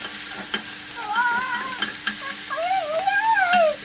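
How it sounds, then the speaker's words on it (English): Ground beef burger cooking in a pan for taco mac and cheese, with a steady frying sizzle, stirring clatter and a few sharp utensil knocks, close and fairly loud, no talking. "now we have to cook the burger"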